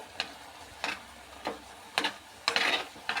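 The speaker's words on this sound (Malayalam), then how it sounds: "മഴയുടെ അങ്ങനെ വെള്ളം ഓവന്ന് വീഴുന്ന സൗണ്ടാണ് നിങ്ങൾ കേട്ടുകൊണ്ടിരിക്കുന്നത്" Rainwater falls from a gutter or overflow in regular close splashes about every half second, alone with no voices.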